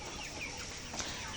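Ready pullets clucking at a poultry farm: faint, scattered hen calls over a continuous low background, with no one speaking.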